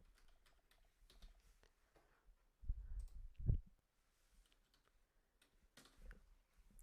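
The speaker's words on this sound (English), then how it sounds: "So I'm going to type up kimchi" Soft, scattered keystrokes on a computer keyboard tick away faintly at close range, with a brief louder low thump in the middle.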